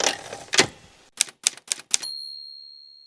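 A typewriter is struck in a quick run of crisp, close keystrokes with irregular spacing, then a clear bell rings and lingers into silence.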